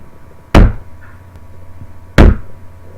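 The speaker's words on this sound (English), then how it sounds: "I heard the knock again" Two sharp, heavy knocks on a door, about a second and a half apart, each a loud close thud over a quiet background, used as a sound effect in a scary story.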